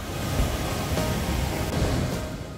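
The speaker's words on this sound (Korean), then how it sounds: "직탕폭포가 있습니다." A broad, steady rush of falling water from Jiktang Falls on the Hantan River in Korea, a wide, low waterfall about 3 m high and 80 m across, roaring continuously nearby with no other sounds.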